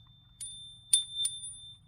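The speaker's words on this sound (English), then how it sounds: "But it's just a nice little chime." A small magnetic door chime for a metal front door rings three times, light metallic dings with a sustained tone between strikes, close and clear over a low background hum.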